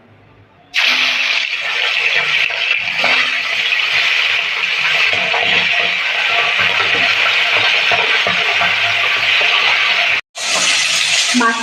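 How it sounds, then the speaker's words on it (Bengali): Pieces of pomfret fish sizzling in hot mustard oil in a wok: a sudden loud, dense hiss of frying that holds steady, briefly drops out near the end, then resumes just as strongly. "এবার মাছগুলোকে ভেজে নেব"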